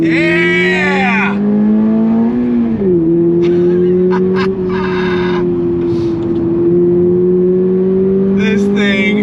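A 2024 Toyota GR86 Performance Pack revs hard toward high RPM, a loud, close engine note that climbs, dips at a shift and holds, with tire squeal and brief voices over it.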